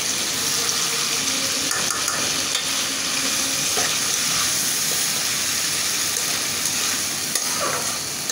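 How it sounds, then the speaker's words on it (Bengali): Lentils go into a pan of fried spice paste, setting off a loud, continuous sizzle and frying hiss with some stirring throughout. "এখন আমি ডাউলটা দিয়ে দেব।"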